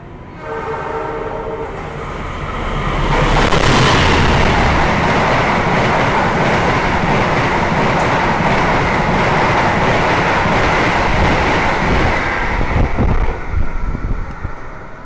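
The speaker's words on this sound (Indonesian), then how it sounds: "Barusan itu kereta api Argo Lawu asli lewat sini ngebut banget" An Argo Lawu express train roars past at about 115 km/h, a loud sustained rush of wheels and wind with rhythmic clatter, briefly preceded by a horn.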